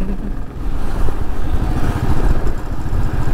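Royal Enfield Thunderbird 500 motorcycle on the move, giving a steady, loud, low engine rumble mixed with wind noise that runs without a break, with no voices.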